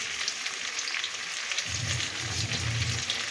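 Chopped onion and salt sizzle and fry in a pan as the base of a desi tangra fish curry, a steady close hiss that grows slightly denser partway through.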